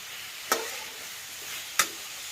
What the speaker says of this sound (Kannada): ಟೊಮೆಟೊನ ಸಣ್ಣಂಗಿ ಹೋಳಿ ಹುರಿಯಾಕತ್ತಾರೆ ಎಣ್ಣೆಯಾಗ